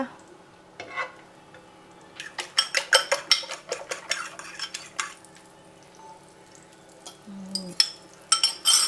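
Kitchen clatter of utensils against a buttered pan as eggs are added, with scattered clinks and scraping, a brief low sizzle near the end, no talking.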